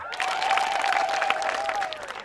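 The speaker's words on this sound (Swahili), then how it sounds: "Hebu pigeni Bwana makofi" A church congregation claps and cheers together in a steady, dense wash of applause, with a sustained voice or tone carrying over the crowd.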